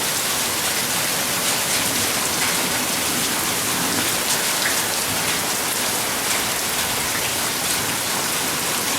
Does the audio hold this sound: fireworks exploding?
no